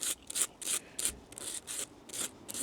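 A cutting tool's edge being sanded with P100 sandpaper: a steady run of about nine short, raspy scraping strokes in even rhythm, close and fairly quiet, with no talking.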